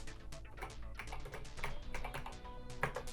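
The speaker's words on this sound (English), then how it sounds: "The general travel and key sound give you good feedback though" Keys on a ZX Spectrum computer keyboard clatter in quick, irregular bursts of typing, a close, light series of clicks and taps.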